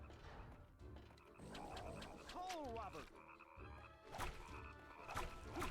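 Several frogs croak in the Nightmare Before Christmas game Oogie's Revenge, with repeated warbling calls overlapping against a busy game soundtrack; no voices.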